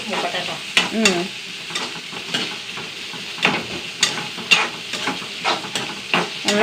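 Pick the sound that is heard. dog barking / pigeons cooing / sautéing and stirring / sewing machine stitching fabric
sautéing and stirring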